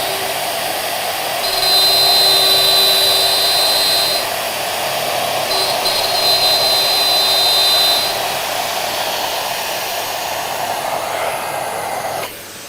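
A Shaper handheld CNC router cuts a rough 80 mm deep pocket, moving right to left. It gives a loud, steady high-pitched spindle whine with a grinding cutting noise, rising and easing as the cut goes on, with no talk.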